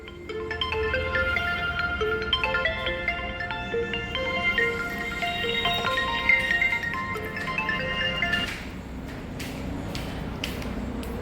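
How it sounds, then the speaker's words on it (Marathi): A phone ringtone plays a repeating electronic melody for about eight seconds, then cuts off, leaving a quieter room with a few soft knocks. "दादू फोन आलाय नानाचा"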